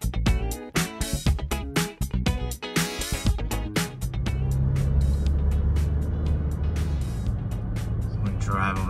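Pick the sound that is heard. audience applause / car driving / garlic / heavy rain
car driving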